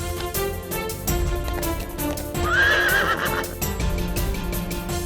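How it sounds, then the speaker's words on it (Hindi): A horse in an animated film whinnies loudly with a rising, wavering call in the middle, while steady clip-clopping hooves and a background score run throughout. "चल मेरे घोड़े, टिक टिक टिक"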